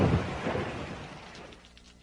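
Rain falls steadily with a low, distant thunder rumble that is strongest at the start and slowly fades, with no voices present.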